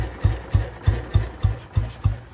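A 2008 Royal Enfield Bullet motorcycle idles with a stock silencer, its exhaust thumping in a slow, steady rhythm of about seven evenly spaced beats, heard close up and alone.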